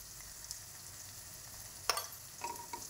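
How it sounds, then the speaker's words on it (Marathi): Onion sautés in a pan with curry leaves and turmeric, a faint, steady sizzle broken by a sharp burst of crackling and a few light clinks of stirring near the end. "कांदा गुलाबी कलरवर परतत आलेला आहे। आपण त्याच्यामध्ये कढीपत्ता टाकूया, परत हलवून घ्यायचं।"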